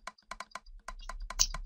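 Sharp, quick clicks of a computer mouse during Minecraft play, a rapid run of close, dry taps in irregular clusters over faint background hum.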